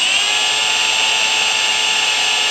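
A power drill boring into the grille of a car during an RS3 Stinger laser diffuser install, a loud, steady high-pitched whine that runs unbroken and close.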